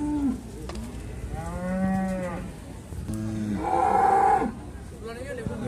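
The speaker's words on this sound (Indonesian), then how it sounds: "sapinya juga lumayan jumbo" Large jumbo cattle at a livestock market in Muntilan, Magelang, give two long, loud, drawn-out moos close by, with crowd noise underneath.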